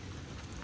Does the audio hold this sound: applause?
no